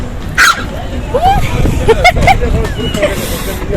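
A small dog yips and barks a few times in short bursts at a big dog while people chatter nearby at Düden Waterfall in Antalya.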